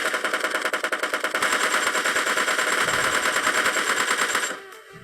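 Rapid automatic rifle fire from M4 and AK assault rifles in the mobile shooter PUBG Mobile Lite, a loud continuous burst of tightly spaced shots running nearly five seconds before cutting off abruptly.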